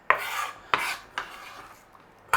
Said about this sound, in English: A nice little chop on the onion